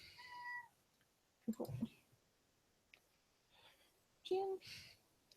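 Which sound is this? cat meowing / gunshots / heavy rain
cat meowing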